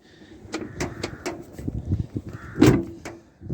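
Close clicks, knocks and a clunk come from a Citroen C1 car door as its repaired door lock and handle are worked and tested, a series of irregular mechanical taps with one louder thud.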